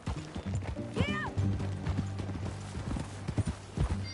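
A horse in the video game Red Dead Redemption 2 trots with close, steady clip-clop hoofbeats, broken once early on by a short, rising whinny.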